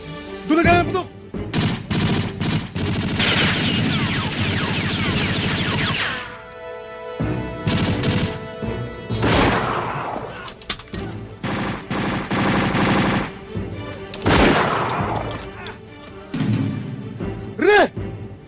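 Gunfire in a Filipino action movie: rapid bursts of shots and sustained volleys crackle across the scene, loud and close, with shouting voices and brief pauses between the clusters of firing.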